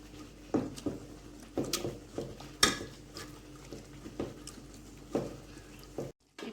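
Cooked peas with masala are mashed in a pan for masala sundal, with scattered metallic taps and scrapes of the utensil against the pan at an uneven pace, close and fairly quiet.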